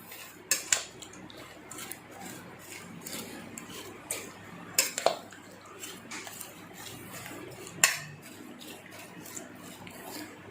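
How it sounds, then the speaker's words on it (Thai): Thai mixed spicy salad (yam ruam mit) tossed in a bowl, with soft wet rustling and irregular sharp clinks and taps of utensils against the dish, close and moderately quiet, with faint talk in the background. "แค่คลุกให้เข้ากันนะครับ"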